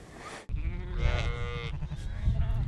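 Sheep bleating at a nomad camp in rural Kyrgyzstan, a long wavering bleat close by over a steady low rumble of background noise.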